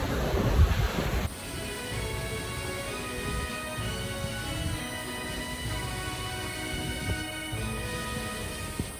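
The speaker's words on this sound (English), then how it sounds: "then we just found this waterfall" Steady broadband rush of a waterfall at Cirque du Fer à Cheval in the French Alps, continuous and fairly loud, with a brief louder burst at the start.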